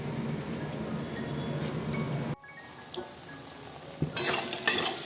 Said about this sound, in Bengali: ফোড়ন দিয়ে পেঁয়াজ দিলাম, পেঁয়াজটা ভালো করে লাল লাল করে ভেজে